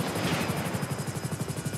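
The Airwolf supercopter in GTA 5 sets down for a landing, its rotor beating in a steady, loud, close thump with a whining turbine hiss on top and no voices.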